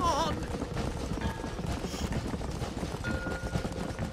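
Hooves clip-clop at a gallop as a horse runs in the Red Dead Redemption video game, a quick, continuous beat heard at moderate level beneath other game sounds and voices.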